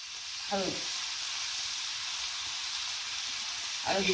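Onion chutney frying in a pan gives a steady, soft sizzle throughout, with two brief scraping stirs near the start and at the end.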